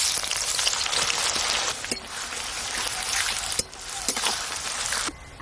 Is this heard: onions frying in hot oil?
yes